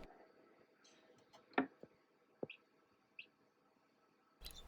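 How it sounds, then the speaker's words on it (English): Baby chicks hatching from their eggs give a few faint, sparse chirps and peeps, with small ticking taps and quiet gaps between them. "as soon as the chick starts to crack that egg, they are chirping from the inside of the egg"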